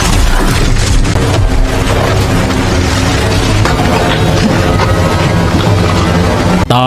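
A freezing bomb goes off in a Predator film, a loud, sustained roaring blast that stays dense and heavy throughout, layered with rumbling and crackling, and cuts off sharply at the very end.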